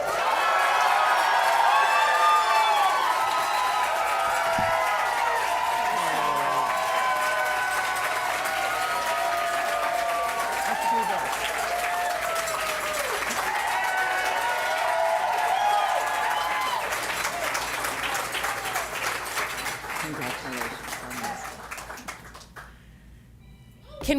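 A large crowd at a primary night election rally claps and cheers loudly and continuously, with whoops and shouts rising over the applause, while a voice speaks through it before the noise drops away at the end.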